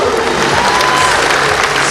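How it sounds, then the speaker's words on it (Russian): An audience at a Russian music awards ceremony applauds loudly and steadily, with dense continuous clapping and faint crowd noise throughout. "Давайте пусть весь город услышит, как мы аплодируем."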